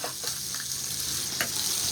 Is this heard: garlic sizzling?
yes